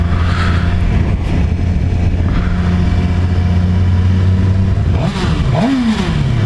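Suzuki GSXR 600 motorcycle engine fitted with an exhaust baffle, idling and running in a steady muffled drone close by, then revving in a couple of quick rising blips near the end.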